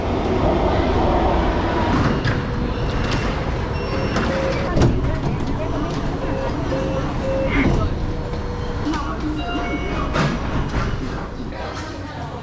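A Nanjing subway train ride, with a steady loud rumble and roar of the carriage running throughout, occasional squeals and clunks, and voices talking over the noise.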